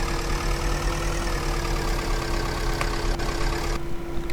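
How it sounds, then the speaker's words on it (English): A car engine sound effect in a Unity game project: a steady, loud idling drone with a constant low hum and no talk, running unchanged for the whole stretch. "Now it has audio,"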